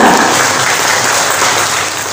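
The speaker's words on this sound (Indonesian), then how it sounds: "Tepuk tangan untuk kita semua." Steady applause from the members gathered at a regional advocates' association branch meeting in Banyuwangi, a dense, continuous clapping that fills the whole moment and fades slightly toward the end.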